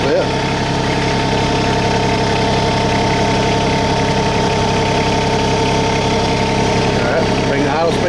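An engine idles steadily nearby in a working garden or yard setting, a constant, even mechanical hum with a faint vibrating knock that stays loud and unbroken throughout.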